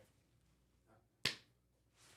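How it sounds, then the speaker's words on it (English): A single sharp hand clap, close and crisp, standing alone against a quiet room. "One of you clap, just one."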